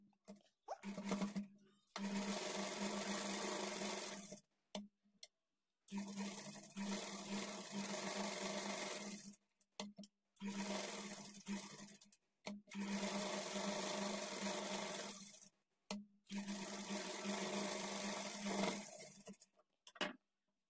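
A sewing machine stitches a blouse lining in repeated short runs of fast, steady whirring, separated by brief silent stops, close and clear with no talking.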